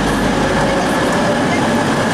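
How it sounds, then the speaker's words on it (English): A train at Glasgow Central station, bound for Carlisle, gives a steady close rumble of rolling stock with rail noise filling the whole short stretch and no break in the sound. "I'm going to catch this train at 11:22 to Carlisle"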